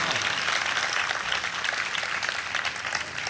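Loud, sustained applause from a church congregation at a coronation ceremony of Mother Mary, dense clapping filling the whole stretch without pause.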